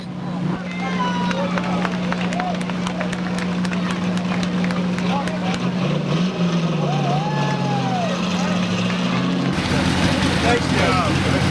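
At Seekonk Speedway during 1999 weekly racing, a push truck shoves a stalled race car along the track, its low engine drone swelling and shifting steadily while voices talk over it throughout.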